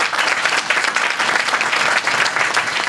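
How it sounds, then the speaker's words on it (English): A room full of people applauding for a school principal at an event announcing an education grant, dense and steady clapping that stays close and loud throughout with no voices over it. "We'll give him a round of applause."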